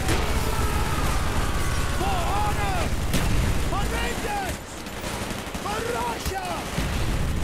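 Rapid minigun fire rattles continuously in Call of Duty: Black Ops, loud and sustained throughout, while a voice talks over the shooting.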